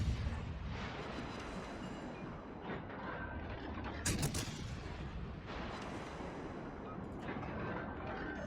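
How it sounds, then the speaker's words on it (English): Ship guns booming in World of Warships: Legends, with the ORP Orkan in a naval battle: dense, continuous rumbling gunfire with a sharp loud blast partway through and steady background battle noise, no talk. "I feel okay opening up for at least a few salvos"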